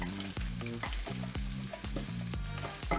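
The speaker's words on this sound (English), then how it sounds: "So now let me just give this a good mix." Sauce for a cabbage stir fry sizzles steadily in a pan while a utensil stirs it, scraping in a quick repeated rhythm under the frying hiss.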